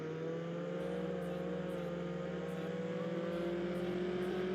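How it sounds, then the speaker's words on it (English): A Porsche car in Roblox Jailbreak driving the length of an airport runway, a steady synthetic engine drone with a low tone that holds and then shifts pitch, loud and unbroken throughout. "simply drove the vehicles from one end of the airport runway down to the other"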